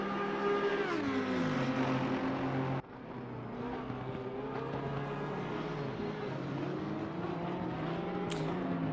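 A Porsche race car engine drones loud and continuous in a racing sim at the Hungaroring, pitch falling and climbing through gear changes and corners, with a brief high blip near the end.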